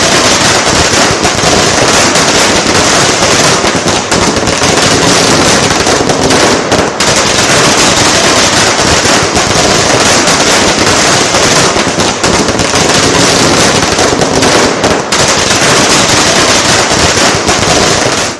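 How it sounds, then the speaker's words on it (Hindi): Firecrackers set off in a morning celebration after the Waqf bill passed crackle loudly and densely in rapid, nonstop bursts for the whole stretch, close and overwhelming. "यह वक्फ बिल पास होने के बाद सुबह पटाखे जलाए जा रहे थे।"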